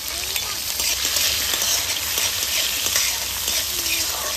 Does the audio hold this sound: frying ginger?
yes